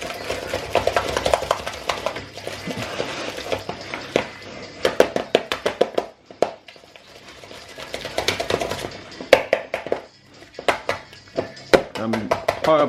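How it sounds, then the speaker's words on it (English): Goat's cheese whisked in a bowl, with rapid repeated metallic taps and clicks in uneven bursts close by, briefly pausing midway, while someone talks over it. "what we're going to do is whisk it"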